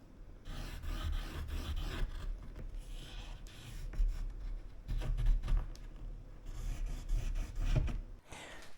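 Pen or marker drawing lines and hole outlines onto a plate being used as a template for an old snowmobile seat repair, steady scratchy scraping strokes, close and continuous with brief pauses, no talking.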